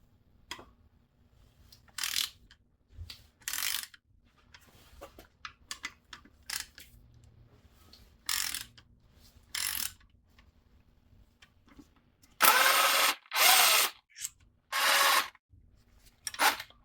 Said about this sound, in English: We're going to get these 2 bolts off here. Long handled ratchet.